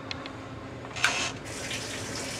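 A Whirlpool washing machine starts filling with cold water: a quiet hum, then a sudden rush of water about midway that continues as a steady flowing hiss.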